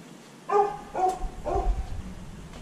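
A dog barks three times in a row indoors, fairly close and clear, the barks evenly spaced within a couple of seconds over a quiet background.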